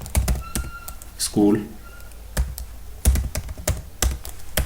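Clicky typing on a computer keyboard while writing in Microsoft Word: sharp irregular keystrokes in short bursts, close up, under a voice explaining as he types.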